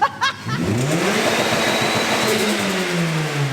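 A turbocharged 1.8 Toyota Yaris SR engine revs and drops off, turbo flutter chattering as the throttle lifts, followed by a steady engine drone that slowly winds down in pitch.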